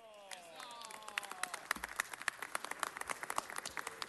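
Scattered, fairly quiet applause from an audience for a band at a city council meeting, with sharp claps building after a few fading musical notes.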